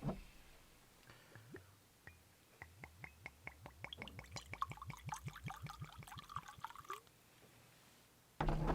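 Clyde May's whiskey pours from the bottle into a Darth Vader etched glass in a quick run of soft glugs that speed up and crowd together before the flow stops, with a louder rustle at the very end.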